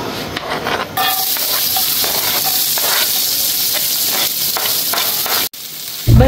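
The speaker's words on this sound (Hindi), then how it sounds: "बस ऑयल ले लिया मैंने इसके अंदर, और अब जी हम इसके अंदर डालेंगे अनियंस" Onions frying in hot oil in a pan on the stove, with a loud, steady sizzle and hiss that runs without a break, punctuated by a few faint stirring scrapes and one sudden brief dropout near the end.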